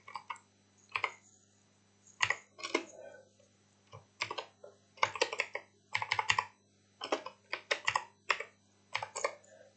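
Keys clatter on a computer keyboard as Hello World PHP code is typed, in short irregular bursts of close, crisp clicks separated by brief pauses, with no talk.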